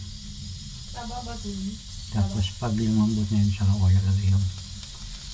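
A pot of shrimp cooking in canned coconut milk with vegetables boils with a soft, steady hiss and bubbling, while someone talks over it in Filipino.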